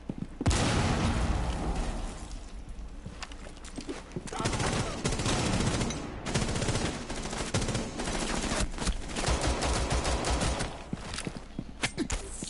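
Rapid bursts of automatic gunfire from Rainbow Six Siege gameplay, loud and dense for most of the stretch, with short volleys separated by brief pauses and some footsteps in between.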